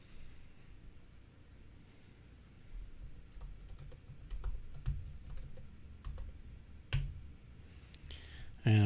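Computer keyboard typing, scattered quiet key clicks with irregular gaps between them.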